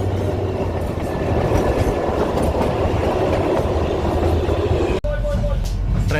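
Kalka–Shimla narrow-gauge toy train running through the hills, with a steady, close rumble and clatter of the carriages throughout and a brief dip near the end.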